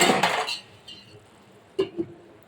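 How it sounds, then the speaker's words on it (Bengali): A metal lid is set onto a pan of puti fish curry on a gas stove: a loud clattering clank at first, then two small clinks a moment later, and no one talks. "এবারে আমি গ্যাসটা বন্ধ করে ঢাকনা দিচ্ছি"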